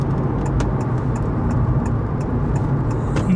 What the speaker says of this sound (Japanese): ドライブモードで、スピードを今ここ50キロまでちょっと加速しますね。